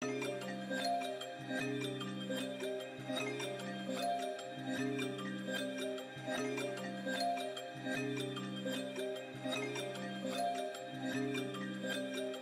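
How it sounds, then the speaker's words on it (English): Reversed copy of a dark melodic sample in FL Studio, swelling tones that rise into each note with a looping, pulsing rhythm, steady and upfront with no voices. "I duplicated it and I just reversed it, so it sounds like this."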